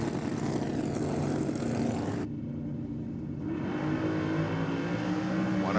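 BMW M3 drag car at a night drag racing event at Sydney Dragway, a steady droning engine rumble close by as it rolls slowly toward the start line, with no sharp revving.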